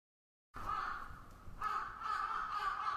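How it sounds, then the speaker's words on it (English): A single crow gives two harsh, raspy caws at dawn over a quiet city, fairly close and clear against faint background hiss. "A crow sounded a shriek, letting the slumbering city know that morning had come."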